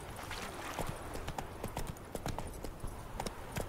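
Horse hooves clip-clopping in a steady trotting rhythm while riding in The Witcher 3, close and moderately loud against a soft ambient background, without talk.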